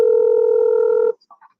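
A telephone handset gives a loud, steady dial tone for about a second, which then cuts off into a few short, quick keypad dialing beeps as a call is placed.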